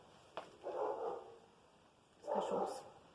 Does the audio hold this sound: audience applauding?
no